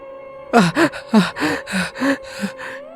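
A voice gasps in a string of heavy, labored breaths, about eight loud pants in quick succession over a low steady tone.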